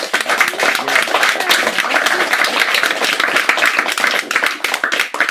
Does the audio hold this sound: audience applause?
yes